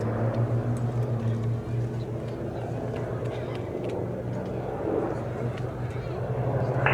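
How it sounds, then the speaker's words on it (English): A P-47 fighter makes a high-speed pass at an airshow, its engine roar rising loud and rough across a few seconds under an announcer's commentary. "Another nice high-speed pass from the right-hand side"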